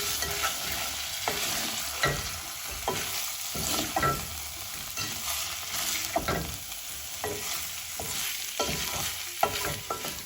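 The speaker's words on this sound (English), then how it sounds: "I'm going to add some salt to taste and mix all this together" Thai green curry with tofu and potatoes is stirred in a pan after salt goes in, with a continuous low sizzle broken by repeated scraping strokes of the spoon, close and steady with no talking.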